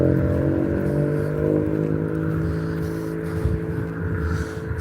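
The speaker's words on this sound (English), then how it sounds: "Sounds like the exhaust is blowing." A car engine with a blowing exhaust rumbles by along a seaside promenade, a low, rough, continuous drone that stays fairly loud and steady with slight fluctuations as it passes.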